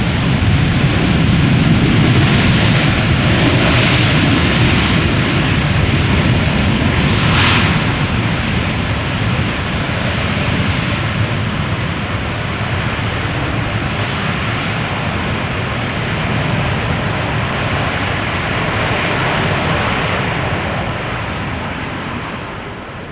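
A Boeing 747 landing at Schiphol roars loudly and steadily as its thrust reversers engage, a broad sustained rush of engine noise that slowly eases toward the end.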